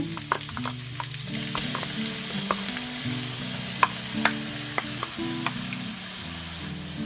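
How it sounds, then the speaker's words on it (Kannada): Crushed garlic with curry leaves, mustard seeds and asafoetida frying in oil until golden brown, a steady close sizzle broken by sharp scraping and stirring clicks, with a low hum underneath. "ಸರಿಯಾಗಿ ಗೋಲ್ಡನ್ ಬ್ರೌನ್ ಆಗುವವರೆಗೆ ಇದನ್ನು ಫ್ರೈ ಮಾಡಬೇಕು. ಬೆಳ್ಳುಳ್ಳಿ ಸರಿಯಾಗಿ ಫ್ರೈ ಆಗಿರಬೇಕಿದು."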